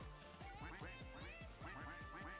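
Many ducks in the Roblox game Duck Army quack in a dense, continuous overlapping chorus, steady and fairly loud throughout.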